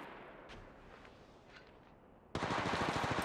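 Automatic gunfire bursts out abruptly in Apex Legends, a loud rapid string of shots following a quieter stretch of game ambience with faint clicks.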